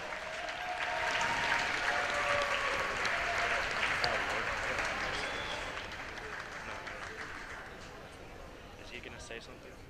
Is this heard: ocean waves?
no